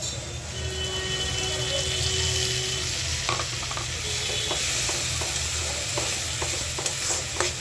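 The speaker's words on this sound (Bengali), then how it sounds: "এই মশলাগুলো দিয়া এই চালটা একটু কষায়" Rice fries with ground chili, coriander, turmeric, ginger paste and salt for muri ghonto, a steady loud sizzle with repeated scraping strokes of the spoon against the pan in the second half.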